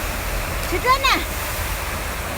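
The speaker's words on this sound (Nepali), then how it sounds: "हेर्नु त झर्नाको पानीमा कस्तो छ शब्द" A waterfall pours in a steady broadband rush throughout, with a person speaking briefly over the falling water.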